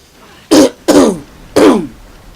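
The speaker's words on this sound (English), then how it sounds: "I need to clear my throat a fair bit afterwards" Three loud, close throat-clearing bursts from a man who has just eaten, evenly spaced over about two seconds, each a short rough rasp with no speech around them.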